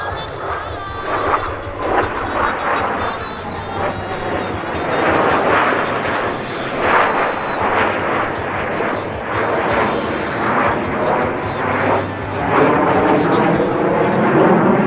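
Four US Navy Blue Angels jets flying the Diamond Roll at 400 miles per hour at the New York International Air Show, a steady loud roar of jet engines with rumbling low end throughout, under a public-address announcer.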